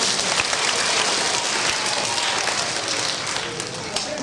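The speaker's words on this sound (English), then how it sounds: "Let's give Sam a nice round of" A school audience applauds a student volunteer at a 1982 school show, a dense, steady wash of many hands clapping that fills the whole stretch, loud and continuous before easing slightly near the end.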